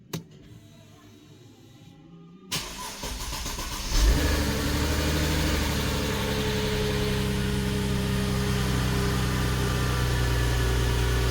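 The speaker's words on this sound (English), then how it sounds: "now let's start up the engine" A Mercedes engine cranks and catches, with a rising rev at start-up, then settles into a steady, loud idle that continues to the end with no talking.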